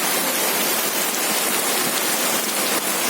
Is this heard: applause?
no